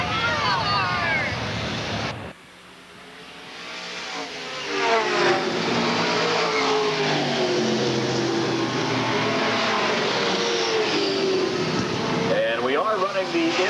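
Race cars circling an asphalt oval track at Redwood Acres Raceway, a sustained engine drone with sweeping pitch as cars pass, after a brief drop near the start; a commentator talks over it throughout.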